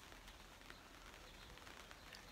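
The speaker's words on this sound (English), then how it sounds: "It's raining!" Light rain patters faintly and steadily on a greenhouse, a soft continuous hiss of drops with no voices.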